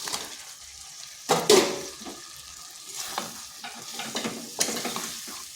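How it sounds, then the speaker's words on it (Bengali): Potatoes being stirred into spiced masala frying in a wok, with bursts of scraping and clatter from the spoon over a low sizzle, close by and with no talking. "ভালোভাবে মিশিয়ে নিচ্ছি আলুগুলো"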